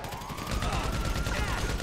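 Gunfire crackles during a gang war in GTA Online, with dense overlapping shots forming a continuous fusillade at mid distance, joined by a rising whine like a siren or engine.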